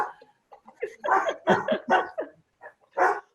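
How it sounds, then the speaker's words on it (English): An alarm system gives a run of short, sharp bark-like bursts in quick irregular succession, loud and close, with brief pauses between groups. "you have alarm systems going off that sound like barks"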